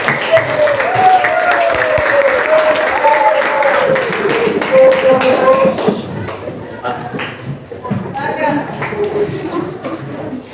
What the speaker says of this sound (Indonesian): Berikan aplaus untuk diri kita sendiri.